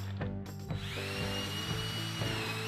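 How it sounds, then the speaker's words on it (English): A power drill pre-drills holes in a safety wall pad panel, a short whirring bite into the material with a steady motor hum underneath, close and moderately loud. "Pre-drill holes at all 4 anchor points in the panel before mounting"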